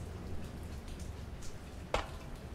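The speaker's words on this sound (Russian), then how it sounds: "Чёртов дождь." Rain patters softly in the horror indie game Blind Survivor, a steady faint hiss with one brief louder splash near the end.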